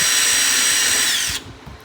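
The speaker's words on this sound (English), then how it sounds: "So the drill bit I'm going to use is a 1/4 inch drill bit for this." Power drill with a 1/4 inch bit boring through a Can-Am Maverick fender flare, a loud high whine for over a second that cuts off abruptly, followed by a few faint clunks.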